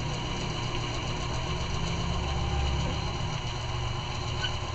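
An Epson inkjet printer runs with a steady mechanical whir and rattling hum, a continuous even drone with no talk over it.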